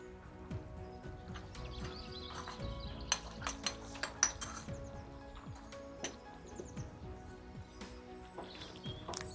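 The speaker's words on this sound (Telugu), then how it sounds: "ఇది కలిసేదా కలుపుకుందామండి" Chicken curry with grated coconut, garam masala and chicken masala stirred in a pot, giving irregular clinks and scrapes of a utensil against metal over a steady background hum.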